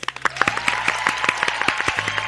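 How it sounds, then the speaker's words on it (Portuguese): Studio audience clapping on a Brazilian TV programme, a close, busy patter of individual hand claps with sharp, distinct strikes that keep going for the whole stretch. "Palmas, Danilo!"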